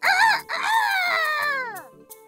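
A cartoon rooster crows one long, loud cock-a-doodle-doo that rises and then trails downward, close by with no other sound.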